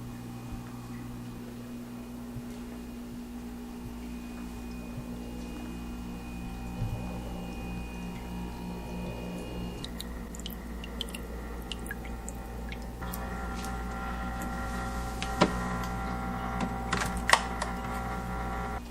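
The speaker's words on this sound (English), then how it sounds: "the loudest thing in my fish room is probably the Fritz fridge over here" Steady low electrical hum from a fridge fills a quiet home fish room, a constant drone with a few faint clicks and drips near the end and no talking.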